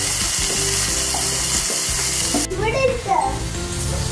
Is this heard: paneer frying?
yes